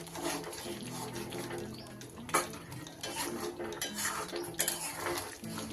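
A spoon scrapes and clinks against a pot while chicken is stirred and hot water is added, steady clattering with a brief louder splash partway through and a faint sizzle underneath.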